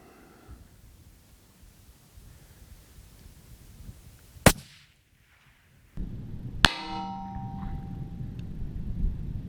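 A long-range rifle fired at a shooting range, a sharp single crack followed seconds later by a second sharp report with ringing echo over wind noise, loud and near with no talk.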